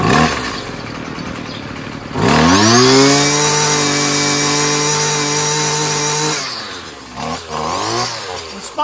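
A 26cc gas-powered string weed trimmer engine, a Wild Badger or Husqvarna 128LD, idles, then snaps up into a loud high-pitched sustained rev for several seconds before dropping back, followed by a couple of short blips.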